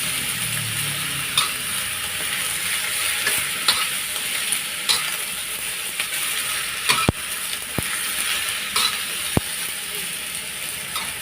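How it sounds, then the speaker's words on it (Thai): Chinese kale (choy sum) is stir-fried with oyster sauce in a hot pan, giving a steady close sizzle broken by sharp scraping clicks of the spatula, with occasional faint speech. "ผัดให้ยุบลงค่ะ"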